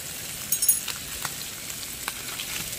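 Bacon sizzles and spits in a pan at an outdoor camp inside an old abandoned mill, a steady frying hiss with a few sharper pops near the start and one more later, close and fairly quiet.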